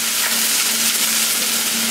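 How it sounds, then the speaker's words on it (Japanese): Steady, loud sizzling of chives stir-frying in a hot wok, a continuous crackling hiss with a faint tonal hum underneath, no voices. "ニラを炒めてニラの香りを出したいんですね"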